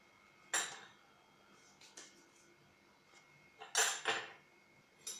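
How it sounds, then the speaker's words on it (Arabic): Fish being stirred with onion powder, garlic, salt and pepper in a pan, a handful of scattered scrapes and clinks of a utensil against the pan, faint and spaced apart. "هلا رح نقلب هاي المكونات كلها مع بعض"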